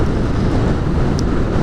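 Steady broadband wind buffeting a helmet or body microphone while riding a 650 motorcycle on a country road, a constant low roar with no talk over it.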